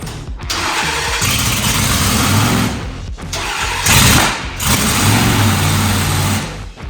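Mud bog truck engine cranking on primer fuel, loud and close, with two bursts of starter grinding and coughing firing separated by short gaps, no speech.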